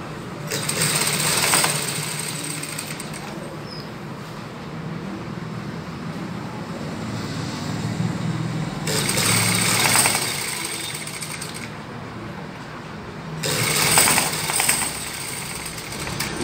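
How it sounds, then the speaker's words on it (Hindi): A sewing machine stitches the main design onto a garment, its steady motorized whir running continuously with a few louder surges where the sewing speeds up, close and alone without talk. "बहुत आसानी से और आहिस्ता आहिस्ता सिलाई लगानी चाहिए"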